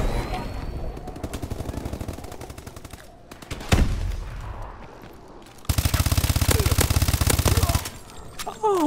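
Rapid automatic gunfire bursts crackle through a Call of Duty: Advanced Warfare multiplayer match, with a heavy boom midway and a long sustained volley near the end, dense and loud throughout.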